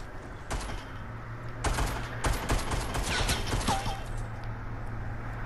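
Video game gunfire in Fortnite shooting down a placed structure, rapid bursts of shots cracking in clusters over steady background game noise, fairly close and moderately loud.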